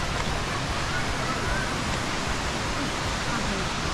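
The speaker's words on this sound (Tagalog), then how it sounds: "Mga mini falls oh." Small mini waterfalls at Situbo Falls pour in a continuous, broad rushing roar of water, loud and close, with no break across the moment.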